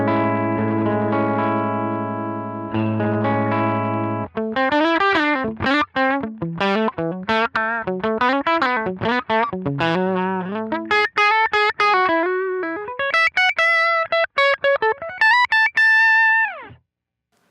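A guitar plays through a Line 6 Pod Go Princeton amp model, with a clean, bright tone. It opens on sustained chords, then moves into quick melodic runs and ends on a ringing high note.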